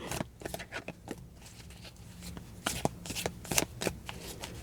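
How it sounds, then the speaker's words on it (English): Close, crisp riffling and flapping of playing cards being shuffled in repeated quick bursts, with soft pauses between them. "I'm just giving these cards a good shuffle"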